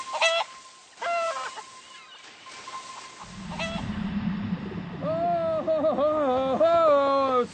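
Chicken clucks and squawks from the video game GTA 5 arrive in a rapid, wavering series, loud and close, coming after short spoken bits and over a low droning backdrop.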